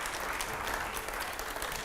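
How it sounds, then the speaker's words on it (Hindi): A studio audience claps during a televised interview show, producing a brief burst of fairly faint, even applause. "जोरदार तालियां रुकनी नहीं चाहिए"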